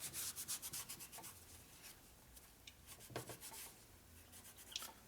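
Faint rhythmic rubbing as excess material is wiped off a 1990s Evo Sportster 90ci big-bore motor case, soft strokes repeating quietly up close.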